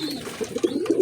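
A pair of Pakistani golden pigeons coo close by in soft, low, rolling pulses that repeat throughout, with no talking.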